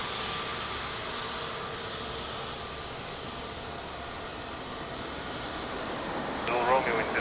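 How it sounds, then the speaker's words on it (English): An Etihad airliner taxis at Lisbon Airport, its engines giving a steady, even roar that fills the whole stretch, swelling slightly near the end, with a voice over it. "So beautiful Etihad is taxiing."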